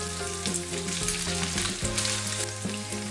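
Chorizo and sausages fry in a pan for frijoles charros, giving a steady loud sizzle with bubbling crackle and a few tonal hums underneath, no talking.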